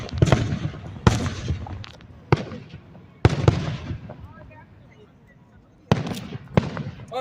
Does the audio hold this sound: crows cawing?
no